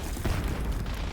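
A grenade blast in Black Ops 6 gameplay, a loud low boom that swells briefly and rumbles on amid dense game noise, with no distinct separate attack.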